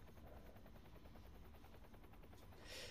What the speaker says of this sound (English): Military chopper.